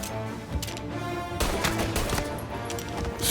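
Bursts of Tommy gun machine-gun fire ring out in the 1930s gangster game Mafia, loud and close, with a sharper flurry of shots starting partway through and rattling on to the end.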